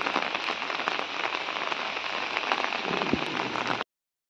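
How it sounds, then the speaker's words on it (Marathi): Heavy monsoon rain in Kondvi village drums hard and steadily on a nearby surface, with scattered louder drops, then cuts off abruptly. "पाऊस जोरदार पडत आहे"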